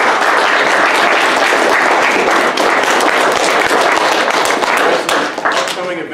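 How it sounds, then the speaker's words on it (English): Loud, dense applause from an audience after a talk on the air turbo rocket, sustained throughout and thinning slightly near the end. "give him a round of applause"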